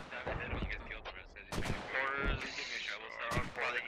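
Mortar rounds impacting in the Star Wars shooter Galactic Contention, several heavy thudding blasts spaced apart amid ongoing battle noise, with voices talking over the impacts.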